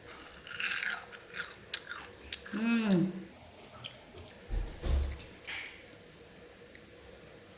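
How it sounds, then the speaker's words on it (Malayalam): Crisp bites and chewing of small fried mashed potato balls dipped in sauce, several crunchy bites close up in the first few seconds, with a voice speaking in between and throughout. "ഒന്ന് കഴിച്ചോക്കാലേ ദേ കണ്ടോ പുറമേ നല്ല ക്രിസ്പി ആട്ടോ കുറച്ച് സോസിൽ മുക്കിയിട്ട് കഴിക്കാം"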